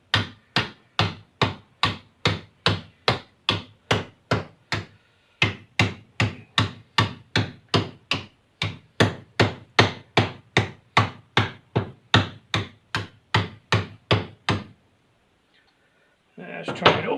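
Rapid, evenly spaced hammer blows on a clamped aluminum rudder rib for a CH750 STOL aircraft ring out close by, dozens in a steady rhythm with one brief pause, then stopping before a short rustle.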